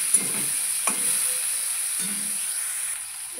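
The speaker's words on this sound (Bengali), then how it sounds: "টমেটো কুচি দিয়ে দেবো, দিয়ে এটাকে ভালো করে লাল করে ভেজে নেব" Chopped tomato fries in a pan for pasta with a steady, close sizzling hiss, broken by a few soft scrapes of stirring.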